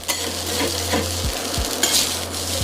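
Hiroshima-style okonomiyaki batter being stirred and fried in an iron pan, with loud close sizzling, scraping and utensil clatter over a low steady stove hum, and no one speaking.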